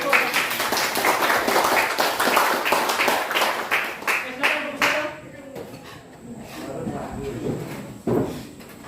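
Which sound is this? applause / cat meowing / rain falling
applause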